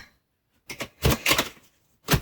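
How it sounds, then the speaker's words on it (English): A deck of tarot cards being shuffled by hand, a few quick riffling bursts after a brief pause, close and crisp with short gaps between them. "Let's shuffle like this at first."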